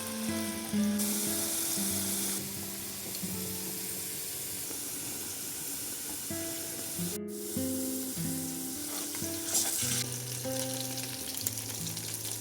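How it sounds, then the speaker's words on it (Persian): Food sizzles and fries in a pan in a home kitchen, a continuous close hiss with faint stirring and clinks of utensils, no talking. "اینا رو سرخ کنم."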